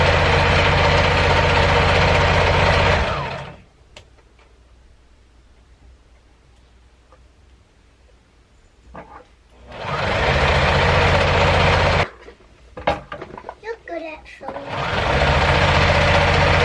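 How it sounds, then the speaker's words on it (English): A sewing machine stitching a swimming skirt runs in loud continuous bursts, about three seconds at the start, then again after a quiet pause broken by faint handling noises, with short stops and restarts near the end. "Back up so Becca can sew"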